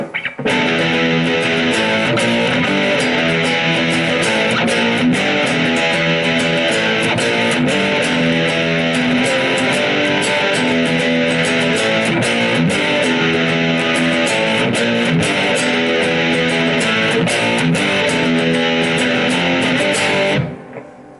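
A dense, distorted guitar riff plays continuously with a full band-like wash underneath, loud and steady, then stops abruptly near the end.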